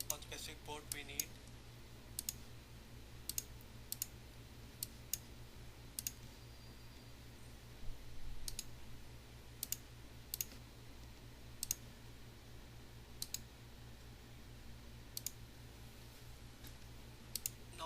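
A computer mouse clicks on points on a map, sharp, isolated clicks coming every second or so over a faint steady hum.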